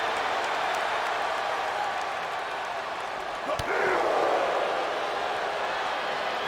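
A sold-out arena crowd roars steadily at a WWE 2K22 wrestling match between Miz and Ciampa in Orlando, with a sharp thud near the middle and a brief swell of cheering afterward.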